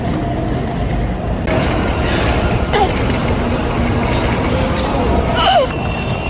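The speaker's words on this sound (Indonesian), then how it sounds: "Ini kita naik bis yang Line 5." A Seoul city bus on Line 5 hisses loudly with repeated air-brake releases. Engine rumble and street traffic sit underneath, with brief squeals and beeps close by.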